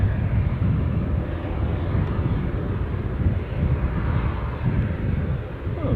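An ATR 72 turboprop airliner taxis at Newcastle airport, its propellers giving a steady rumbling drone with gusty wind noise, fairly close and continuous throughout, with no one speaking.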